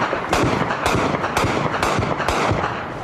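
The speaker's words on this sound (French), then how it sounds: "Ça c'est précis le canon de 20, ça fait pas de dommages collatéraux" A 20 mm cannon firing in combat in Afghanistan, a rapid series of sharp loud bangs roughly every half second, echoing over a constant noisy backdrop.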